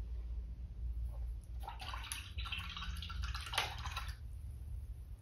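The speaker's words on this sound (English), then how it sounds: "Rinsing my brush out." A paintbrush used for acrylic painting is swished and rinsed in a water pot, giving soft, close sloshing and dripping sounds for a few seconds against quiet room hum.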